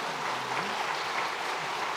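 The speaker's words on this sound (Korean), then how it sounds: "여러분 마음 담아서 박수하고요" Church congregation applauding during a Sunday worship service, a steady, even wash of many hands clapping together, heard from a distance and fairly soft, with faint voices underneath.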